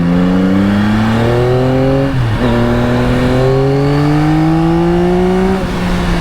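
A 2024 Yamaha XSR900 motorcycle engine revs up through rising pitches, shifting gears once and climbing again, loud and close throughout.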